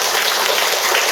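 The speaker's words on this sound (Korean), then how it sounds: "박수 한번 주세요." Brief burst of audience applause at a Buddhist temple school entrance ceremony, dense, steady clapping from a large crowd, loud and close, with no talk over it.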